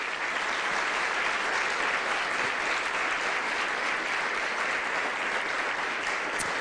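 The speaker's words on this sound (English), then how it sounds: "Please help me congratulate and thank all of these finalists with a great big round of applause" A room full of people at a school district teacher-of-the-year celebration applauds steadily for the finalists, dense continuous clapping at a fairly loud, even level throughout, with no talking over it.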